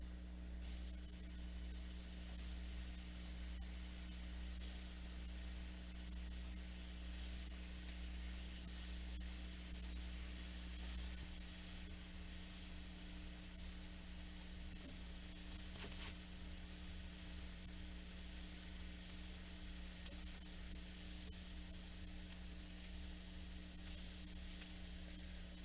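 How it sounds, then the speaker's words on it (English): Chicken nuggets frying in hot grease, a steady close sizzle and crackle with a constant low background hum, no talk. "let's go ahead and start dropping these in our grease and our oil"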